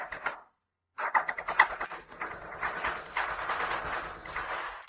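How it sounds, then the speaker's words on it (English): A fire-damaged Suzuki Hayabusa motorcycle engine cranking on its starter from an external battery: a brief burst, a pause, then a sustained rough, rhythmic churning that carries on loudly without catching. "The engine can keep cranking now."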